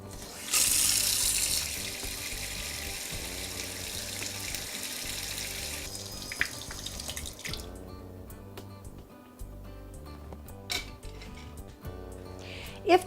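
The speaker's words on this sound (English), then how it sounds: "test the hot water from the faucet nearest the water heater" Hot water runs from a faucet into a sink, starting as a loud rushing stream, then settling into a lighter flow. Drips and a few clinks follow toward the end, with no voices.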